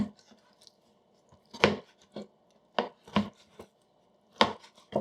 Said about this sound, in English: So we're gonna just cut this in strips, like a 1/4 inch or so